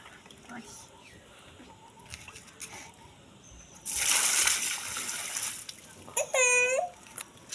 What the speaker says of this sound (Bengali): সুন্দর করে গাছে জল দিচ্ছে।